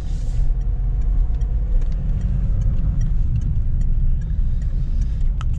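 Steady engine rumble and road noise inside a truck cab as vehicles rush along a ring road, loud and continuous with no talk.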